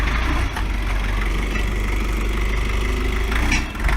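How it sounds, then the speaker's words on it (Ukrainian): A Jinma 404 four-cylinder, 40-horsepower diesel mini tractor idles steadily outdoors, a continuous low chugging rumble with a brief dip in level near the start and another near the end. "Трактор 4-циліндровий на 40 кінських сил з двигуном ЗН490."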